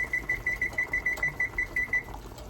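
A kitchen timer beeps in a rapid, steady run of about a dozen high electronic pips, close and clear with faint room noise behind, then falls silent.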